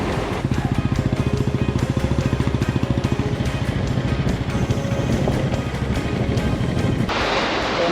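Motorcycle ridden with a broken clutch wire on a rough mountain road in Lahaul, its engine thumping in a steady, loud, close rhythm throughout, with a brief rise in hiss near the end.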